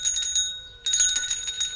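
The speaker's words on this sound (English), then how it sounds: "Noddy nodded, and his bell jingled merrily." A small bell on a toy's nodding hat jingles merrily as a sound effect, two bright ringing bursts separated by a brief pause, clear and close with no voice over it.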